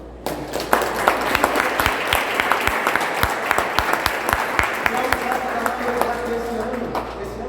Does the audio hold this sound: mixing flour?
no